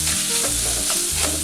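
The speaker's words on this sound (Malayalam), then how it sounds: "ഈ സവാള നന്നായിട്ടൊന്ന് മൂപ്പിച്ചെടുക്കണം" Onions with salt fry in a pan for egg curry, a loud close sizzle under repeated scraping stir strokes that sweep in a steady rhythm across the short stretch, with no voices.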